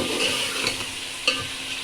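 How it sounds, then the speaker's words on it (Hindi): Beef koftas and masala frying together for kofta pulao, a steady close sizzle with a couple of sharp scrapes and clinks as they are stirred. "ये मसाला भी साथ साथ फ्राई हो रहा है, भून रहा है"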